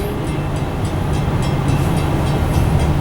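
A long freight train loaded with salt rolls past behind four engines leaving Mount Morris, a loud continuous rumble with rhythmic clatter of wheels over rail joints, close by and with no voices.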